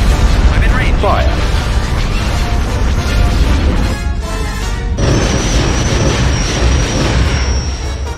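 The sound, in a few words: starship weapons fire and explosions in Star Wars strategy game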